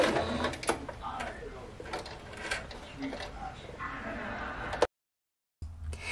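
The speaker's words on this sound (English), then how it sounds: "I just sewed forward and backward as I was doing a zigzag motion." A domestic sewing machine stitching a summer skirt forward and backward in a zigzag motion, a fast steady mechanical whirr with clicks, fairly quiet and close, stopping abruptly near the end before a short resumption.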